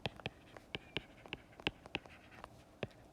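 Pen scratching on paper while a hotel revenue problem is worked out, short strokes and taps in an uneven rhythm, close and fairly quiet, with no talking.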